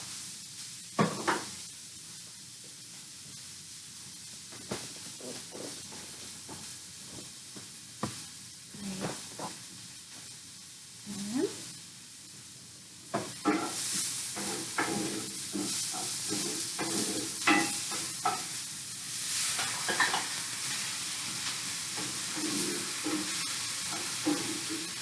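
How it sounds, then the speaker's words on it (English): A sizzling pan being stirred with a utensil, lentils then added, with scattered scraping and clattering over a steady frying hiss that grows louder and denser in the second half. "I'm just going to stir that and then add the lentils in."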